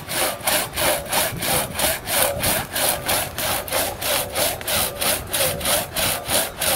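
A hand saw cuts through a thick tree branch in steady back-and-forth strokes, about two per second, loud and close with a rasping wooden grind and no talking.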